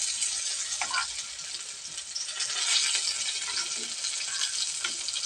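Eggplant slices fry steadily in a pan, a continuous bright sizzle with soft crackles and occasional clinks, close and even throughout, with no voices.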